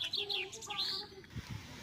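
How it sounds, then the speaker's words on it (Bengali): Birds gathered at a village tea stall give bright, faint high chirps and trills in quick succession, with soft low background noise beneath. "সেই চায়ের দোকানে প্রতিদিন এরকম পাখির জমায়েত বাঁধে"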